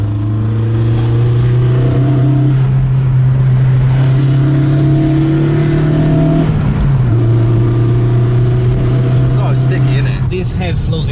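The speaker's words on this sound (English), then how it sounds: "The most impressive thing I'll probably say about this car is the intake sound." A BMW E36 318i four-cylinder engine revs hard and loud, its intake roaring through steady rises in pitch, with a sharp drop and a climb again near the end, while a voice talks over it.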